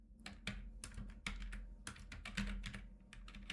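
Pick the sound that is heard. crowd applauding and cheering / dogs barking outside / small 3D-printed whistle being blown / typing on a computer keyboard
typing on a computer keyboard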